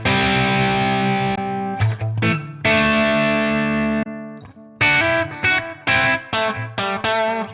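Distorted electric guitar through a Tonex amp modeler pedal, sustained chords and choppy stabs with gaps between phrases, loud and close.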